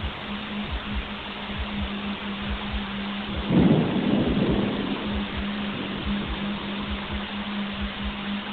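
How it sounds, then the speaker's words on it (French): Heavy rain pours steadily on a street at night during a storm in Malaysia, with a deep roll of thunder swelling midway and fading back into the constant downpour. "Alors que le tonnerre grondait et que la pluie tombait à verse en Malaisie"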